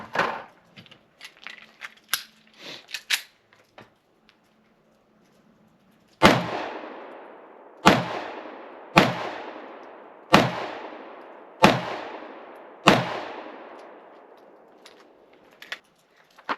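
A Canik Mete MC9 9mm pistol fires Federal Premium HST 124 grain rounds outdoors in six sharp, loud shots spaced about a second apart, each with a ringing decay, after some quieter handling clicks.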